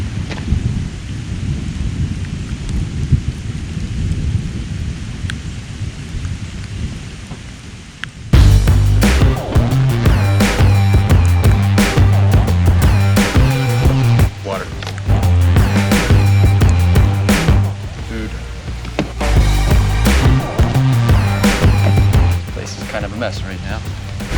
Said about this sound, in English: You can hear the rain still. It's coming down a little bit